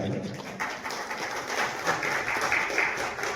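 Clapping from an audience at a film meetup, a brief burst of hands blended with crowd noise and voices in a lively hall.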